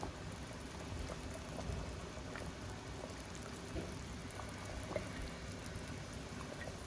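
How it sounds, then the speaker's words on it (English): A pot of water boils steadily, a soft continuous bubbling and hiss with occasional small pops, quiet and uninterrupted. "Our water is boiling"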